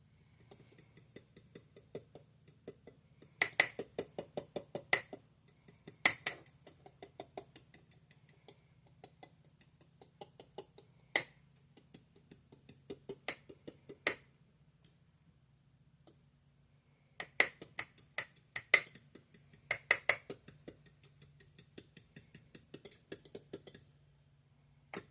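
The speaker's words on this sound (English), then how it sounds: "I can get that next batch of eggs stirred or scrambled" Eggs are stirred and scrambled in a bowl, a quiet rapid clicking of utensil against the bowl in bursts separated by short pauses, close and without talk.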